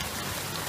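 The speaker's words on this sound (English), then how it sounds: "There's literally a cloud parked right over top of the house, and it's just pouring down rain" Heavy rain pouring down on a house, a dense, steady hiss of drops drumming on surfaces, loud and unbroken across the short span.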